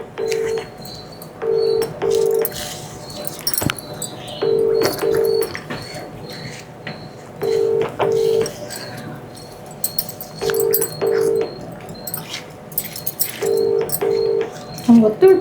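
Outgoing phone call ringing over a speakerphone, with regular paired ring bursts repeating every few seconds across the clip, moderately loud, with faint background sounds between rings.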